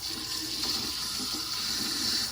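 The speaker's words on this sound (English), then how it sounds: "I rinse it under warm water." Warm water runs steadily from a tap as a double-edged safety razor is rinsed, a continuous close splashing hiss with no pauses or talk.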